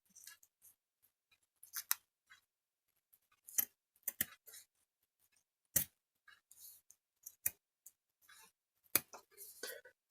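Sharp scissor snips cutting robust lace come in irregular bursts, some single and some in quick pairs, with quiet gaps between, close and fairly crisp.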